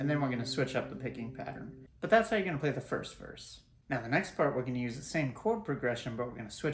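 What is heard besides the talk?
No distinct noise like a dog, phone or traffic.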